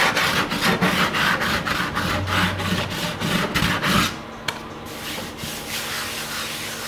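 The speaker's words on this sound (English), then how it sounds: "There's a little bit there I'm just going to quickly rub down." Quick sanding strokes rub down a small scratch in the painted bumper of a Ford Sierra Sapphire RS Cosworth. The rhythmic scraping runs steadily for about four seconds, then stops, leaving a quieter background.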